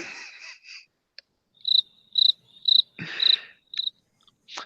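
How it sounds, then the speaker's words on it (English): Cricket chirping, heard as about seven loud, close, shrill bursts of trilling with short silent gaps between them. No voices. "crickets."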